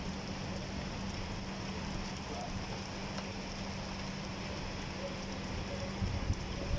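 Evening rain falling in Qatar on 1 May 2024, a steady soft patter of drops on surfaces that carries on evenly throughout, faint and fairly distant, with a low steady hum underneath and no talking.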